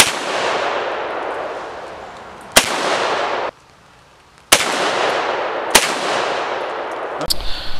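Shots from .22 and 9mm firearms fired at brake rotors outdoors, four sharp, loud cracks spaced a second or two apart, each trailed by a long noisy wash of echo or wind, with a short quiet gap between the second and third.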